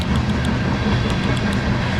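A train rolls past on nearby railroad tracks, a loud, continuous rumble with rhythmic clacking of wheels over rail joints, close and steady throughout.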